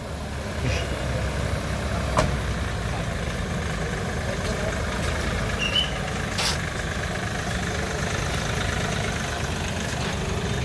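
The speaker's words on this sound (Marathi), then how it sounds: "दोन गाड्या आल्या." Two vehicles pull up at a crash scene where a police car has hit a school students' vehicle, their engines idling in a steady low rumble, with a few faint clicks and knocks over the drone.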